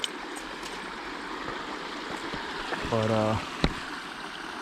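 A creek on a forested hiking trail in north Georgia runs steadily in the background, a soft, constant wash of water, while a person's voice briefly breaks in near the end.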